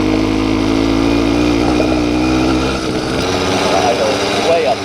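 Tuned Yamaha YD100 two-stroke motorcycle fitted with a reed valve, idling fast and steady up close, with a brief dip in the engine note partway through.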